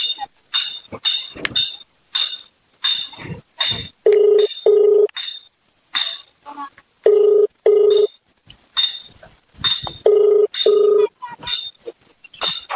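A telephone rings in repeated short electronic bursts, each ring a pair of pulses, spread across the clip and alternating with brighter beeping tones and scattered clatter.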